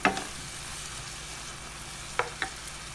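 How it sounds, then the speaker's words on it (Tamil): Ground masala paste is stirred into crab gravy frying in a pan, a steady close sizzle with a few scraping strokes of the spoon, no voices. "எல்லாத்தையும் நல்லா கலந்து விட்டுறலாம்."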